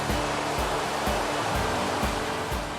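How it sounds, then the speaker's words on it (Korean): Rushing water of a forest waterfall at Doi Inthanon in northern Thailand roars as a dense, constant hiss, loud and near, with no voices over it. "물소리도 크게 들리고"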